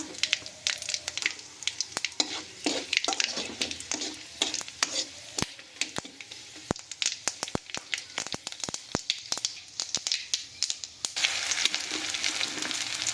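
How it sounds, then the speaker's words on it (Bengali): Panch phoron and dry red chillies crackle in hot mustard oil in a kadai, giving a close sizzle studded with sharp pops and spatula scrapes, growing denser and steadier toward the end. "এই কড়াতে সর্ষের তেল দিয়ে দিলাম আর ফোড়নে দিয়ে দিচ্ছি পাঁচ ফোড়ন আর শুকনো লঙ্কা"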